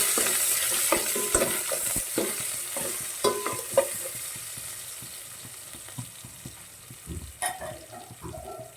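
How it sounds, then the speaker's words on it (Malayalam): Chopped shallots fry in hot oil with popped mustard seeds, a steady close sizzle broken by scraping stirs and light clinks of a spoon against the pan, with no talking. "കടുക് പൊട്ടിക്കഴിഞ്ഞപ്പോൾ ചുമന്നുള്ളി, ഒരു 3-4 ചുമന്നുള്ളി അരിഞ്ഞ് ഇട്ട് കൊടുക്കും."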